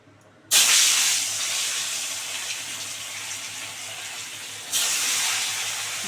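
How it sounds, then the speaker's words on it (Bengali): Aar fish pieces dropped into very hot oil, giving a sudden loud hissing sizzle that holds steady, then swells again as another piece goes in, with no talk. "এবার একটা একটা করে মাছগুলো দিয়ে দেবো"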